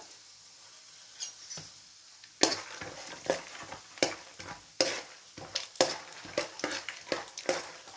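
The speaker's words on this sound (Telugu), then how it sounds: "ఇవి కొంచెం రెడ్ కలర్ వచ్చే వరకు వేగాలి" Peanuts and tempering seeds frying in oil for Rayalaseema-style uggani, a quiet sizzle under a rhythmic series of clinking spoon-against-pan stirs that grow busier after the first few seconds.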